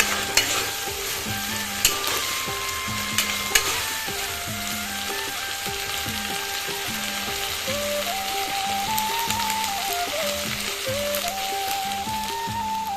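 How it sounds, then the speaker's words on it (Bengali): Ginger paste fries in a pan with a steady loud sizzle, while a spoon scrapes and stirs in repeated strokes, close up and with no talking. "এবার দিয়ে দিচ্ছি আদা বাটা। আদাটাকে একটু কষিয়ে নেব।"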